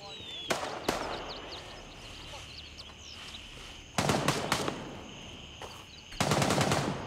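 Automatic gunfire in the Gray Zone Warfare shooter game, with a few sharp single shots followed by two loud sustained bursts of rapid fire, plus occasional distant shots.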